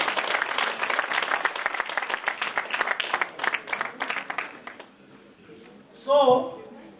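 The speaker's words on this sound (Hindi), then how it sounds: "तो जोरदार तालियां सबके लिए।" Audience applause at a singing competition grand finale, a dense sustained burst of many hands for several seconds that fades out, followed by a brief voice.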